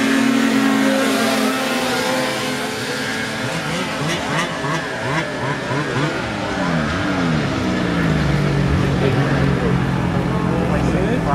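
A finished trail-riding sled build's engine revs close by, its pitch rising and falling in repeated sweeps over a continuous loud drone.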